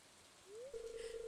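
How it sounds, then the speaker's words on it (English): Rain falls in a Stardew Valley game scene as a soft, steady patter beneath a faint tonal chime that rises and then holds, with no talking. "Sheila, why are you out here in the rain?"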